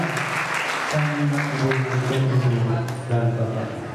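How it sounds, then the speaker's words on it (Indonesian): Church congregation applauding during a Sunday school testimony, a dense burst of clapping mixed with a voice speaking over it. "Kita beri tepuk tangan untuk Tuhan."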